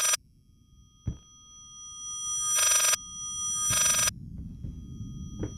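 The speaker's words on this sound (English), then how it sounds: "that's a backwards ringing phone" A backwards telephone ring from the horror video game Layers of Fear: short reversed ring bursts swell and cut off abruptly, three main bursts spaced by dull thumps and low rumble, with no voices.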